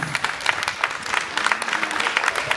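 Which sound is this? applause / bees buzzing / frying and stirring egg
applause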